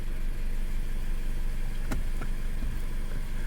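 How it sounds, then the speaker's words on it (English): A Mazda CX-5 2.0 engine with a cylinder 3 misfire (code P0303) runs close by as a steady, even drone under light throttle, with a couple of faint brief blips and no talking. "Let me just give it a little throttle, and like I say, it does not hesitate"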